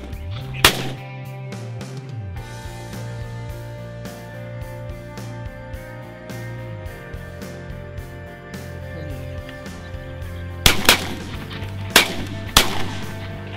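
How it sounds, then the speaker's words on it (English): Shotgun shots ring out outdoors while decoying wood pigeon over a re-sown wheat field: one sharp report early, then three spaced blasts near the end over a steady engine-like hum. "He's going to be shooting with us today."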